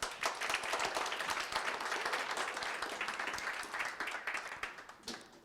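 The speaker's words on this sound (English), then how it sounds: "Can we get a big round of applause for him?" An audience at a 2016 presentations event claps for a speaker, steady dense applause that holds evenly and begins to thin out near the end, fairly faint and distant.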